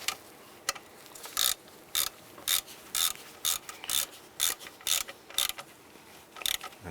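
A ratchet tightens the nut on the alternator of a 2005–2007 Jeep Liberty, a close run of sharp clicking bursts in an even back-and-forth rhythm, loud and with no one talking.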